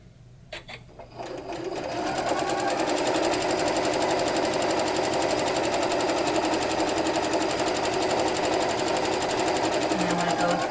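Sewing machine stitching fabric pieces at a quilting shop demo, starting after a brief clatter and then running in a fast, steady, loud mechanical whir.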